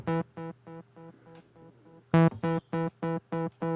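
A repeated tonal synth or instrument note through the McDSP EC-300 delay plugin with feedback, evenly spaced echoes decaying softly before a louder note restarts the pattern of repeats.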